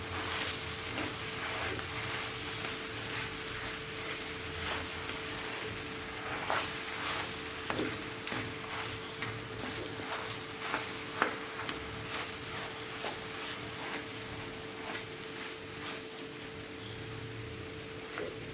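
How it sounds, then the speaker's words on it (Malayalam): Kappa fish biriyani fries in a pan while being stirred, with a steady close sizzle and irregular scraping clicks of the utensil throughout. "നമുക്കൊന്ന് ജസ്റ്റ് ഒന്ന് ഇളക്കി കൊടുക്കാം."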